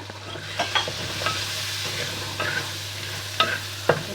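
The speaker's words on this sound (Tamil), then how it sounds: "இந்த வதங்குற வெங்காயத்துக்கு கொஞ்சம் உப்பு போட்டால் கெதியாக வதங்கும்." Onions frying in a pan with a little salt for a trevally fish curry, a steady low sizzle broken by several sharp clinks and scrapes of a spoon stirring against the pan.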